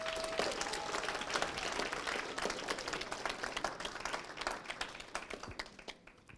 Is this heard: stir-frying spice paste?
no